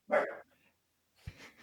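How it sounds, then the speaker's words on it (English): A dog gives a sharp bark, followed after a short pause by a softer second bark or yip, close by and alone. "That's a dog."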